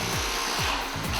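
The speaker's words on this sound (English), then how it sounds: "And of course, the relentless drilling continues." A power drill whines during a hotel renovation, a loud, steady grinding buzz with a few short rhythmic pulses as it bites into the material.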